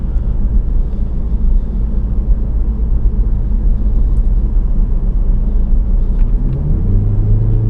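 A 2014 Ford Focus Titanium cruising steadily at 35 mph, with a continuous low road rumble and engine drone inside the cabin; no talking, and the tone shifts slightly near the end.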